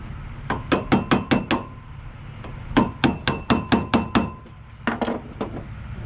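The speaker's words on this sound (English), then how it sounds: "You put your screwdriver on it, tap them and tighten them just a little." A screwdriver taps repeatedly on the terminal screws of a commercial grade extension cord plug, three close bursts of six or so sharp metallic knocks separated by short pauses, with no talk.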